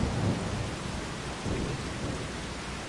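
Steady rain with low thunder rumbles in the video game Farming Simulator 25, a broadband wash of rainfall with two soft rolling swells, no voices.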